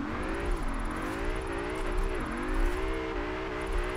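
A race car's engine in the Assetto Corsa video game wavers up and down under a feathered throttle on a downhill run, a continuous close whine rising and dipping in pitch.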